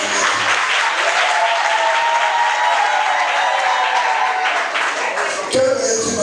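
Wedding guests at an official civil marriage ceremony break into loud, sustained applause and cheering, a dense crowd of clapping hands with raised voices that runs continuously and close for about six seconds.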